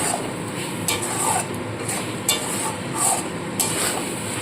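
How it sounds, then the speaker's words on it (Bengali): Spice paste frying with chicken and cauliflower in a pan, a steady loud sizzle broken by several scraping stirs of a spatula against the metal, close and without talk. "তো সমস্ত মশলা দিয়ে দিলাম দিয়ে খুব ভালো করে আবার একটু কষিয়ে নেবো"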